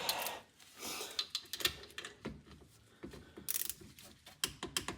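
A torque wrench ratchets while tightening brake bolts on a 2022 Hyundai Tucson, giving rapid clicking bursts with pauses in between, close and fairly quiet.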